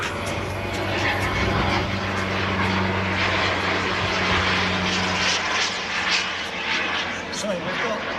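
A Vickers Valiant V-bomber passes over an airshow crowd at Elvington with a sustained droning engine hum, and a commentator's voice runs over it.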